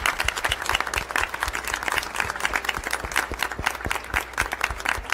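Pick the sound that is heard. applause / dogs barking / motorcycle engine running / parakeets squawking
applause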